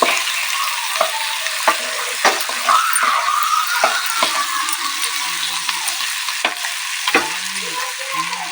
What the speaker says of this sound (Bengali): তেলের মধ্যে একটু কষিয়ে নেবো একটু লাল লাল করে ভেজে নিতে হবে